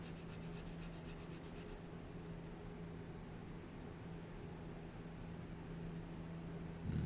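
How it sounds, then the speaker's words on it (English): Small wooden clock kit parts rubbed on a sheet of sandpaper, a steady gritty scraping close to the listener that continues throughout, with a faint repetitive pattern early on and no talk. "you can either rub them like this on a piece of sandpaper or sand them between the sanding block and the sandpaper"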